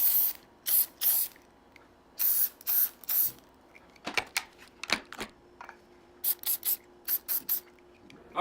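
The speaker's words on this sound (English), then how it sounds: "just add a little bit of WD-40 to these chains right here" Short bursts of WD-40 lubricant sprayed onto the chains of a Hobie Mirage Drive 180 pedal unit, several quick hisses in uneven groups with a few clicks and taps between them, close and clear with no talking.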